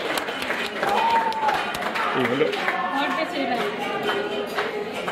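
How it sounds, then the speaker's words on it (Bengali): A crowd claps for a birthday at an outdoor barbecue gathering near Lake Naivasha in Kenya, the applause loud and scattered under overlapping chatter and voices throughout. "সবাই আবার হাততালি দিচ্ছে, বার্থডে।"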